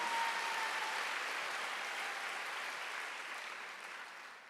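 A church congregation applauding during a Sunday worship service, a steady wash of clapping from many hands that holds for several seconds and slowly tapers off.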